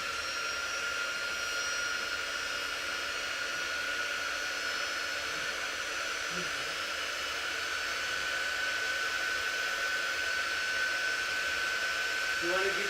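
A hair dryer runs steadily and continuously, blowing on chalk paste during a crafting session, a constant airy whir under faint background voices.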